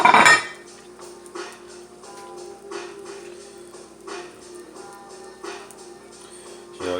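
Eggs seasoned with black pepper being scrambled in a pan, with a spatula clinking and scraping against the metal in scattered, light strikes over a steady low hum.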